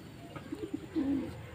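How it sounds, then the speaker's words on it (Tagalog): Four hungry pigeons coo softly while being fed outdoors in the morning, a few low, close murmured coos building to a longer rolling call, with no talk. "may ibon ditong apat oh"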